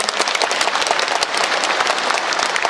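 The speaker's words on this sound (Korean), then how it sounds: "여러분 큰 박수 부탁드립니다" A crowd at a book publication celebration for a city mayor claps loudly and steadily, a dense wash of many hands with sharp individual claps standing out, no voices over it.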